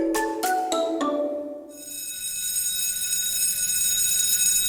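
A school bell in Australia rings. A few struck tones come first, then a sustained, loud electric ringing that holds steady.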